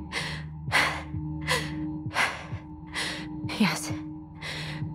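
Heavy, rhythmic breathing from a character in the video game Tell Me Why, a steady run of loud gasping inhales and sighing exhales over a low droning music bed, close and without speech.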